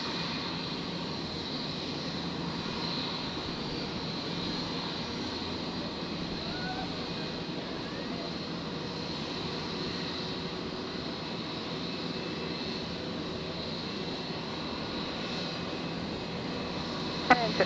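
A Jetstar jet taxiing on the runway at Brisbane Airport at night, a faint, steady engine drone with a whining tone held throughout, and a brief sharp click near the end.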